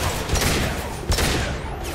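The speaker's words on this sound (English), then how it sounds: "Firing an impact shot!" Impact shot fired in the Mass Effect game, a loud dense burst of gunfire-like blasts with a second sharp crack about halfway through, close and forceful with no talk.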